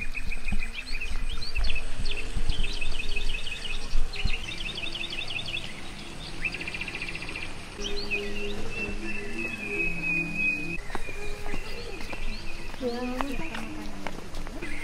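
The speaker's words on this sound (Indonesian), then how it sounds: "Terus ada suara-suara burung juga." Chirping and whistling birdsong outdoors in Ubud, Bali, several calls overlapping at moderate distance, with insects buzzing and people chatting nearby.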